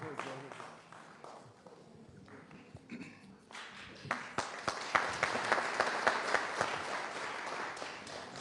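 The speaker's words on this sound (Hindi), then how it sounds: "और जोरदार तालियों के साथ आप तेजनारायण का स्वागत करिए।" Audience applause at a Holi kavi sammelan poetry recital, starting as scattered claps and swelling after a few seconds into loud, dense, sustained clapping from a large crowd.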